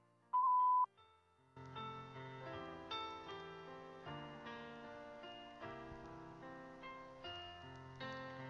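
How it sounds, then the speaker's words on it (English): A single short, loud voicemail beep, clean and steady at a mid pitch, followed after a brief gap by quiet background music with soft plucked notes. "Please leave a message after the beep."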